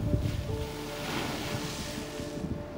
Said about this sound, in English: This is a lovely little stop to take on the waves and the blowhole.